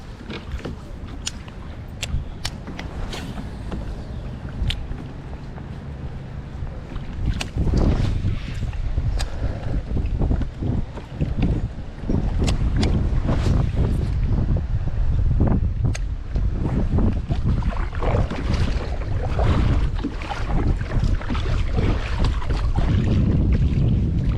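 Wind gusting over a kayak on open water while out fishing for pike, a constant rough rumble that strengthens about a third of the way through, with scattered knocks and splashes and no talk.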